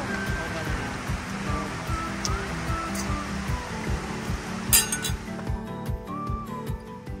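Glasses clink together in a toast at an outdoor summer picnic, a few bright chinks near the middle against a steady background rush and rhythmic low thumping.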